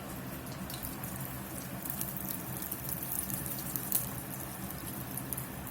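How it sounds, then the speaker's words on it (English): Hot frying oil from a pan of country fried steak, with browned flour in the bottom, is poured off in a soft, continuous trickle, faint and steady throughout. "We're going to pour a lot of this oil off"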